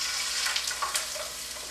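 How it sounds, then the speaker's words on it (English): Chicken laid skin side down sizzles in oil in a black non-stick pan, a close, continuous crackling fry with small pops throughout and no talking. "Now you definitely want to hear the sizzle."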